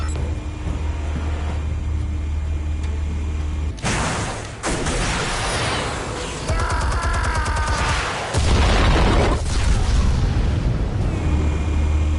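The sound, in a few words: explosives detonating in video game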